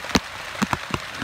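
Heavy rain falling in stormy tropical-depression weather outdoors by a river, heard as a dense steady hiss with a few louder splats of drops close by.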